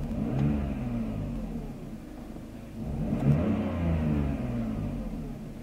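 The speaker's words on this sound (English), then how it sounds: "when I give it a throttle snap," A BMW M54 inline-six with a retarded-timing fault revving on a throttle snap, two rising swells of engine roar over a steady idle rumble, loud and close.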